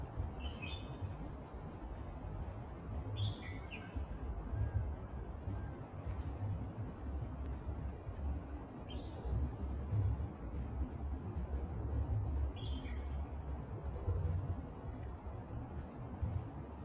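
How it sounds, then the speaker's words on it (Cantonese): Small birds chirping outdoors, with short, high tweets repeating every few seconds, faint and somewhat distant over a constant low background rumble. "你又聽唔聽到啲雀仔叫聲呢？"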